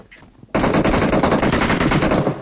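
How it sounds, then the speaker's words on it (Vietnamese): Sustained automatic gunfire in a battle royale video game, a loud dense rapid burst starting abruptly and continuing for about two seconds with no talk over it. "Ôi, nó bắn em"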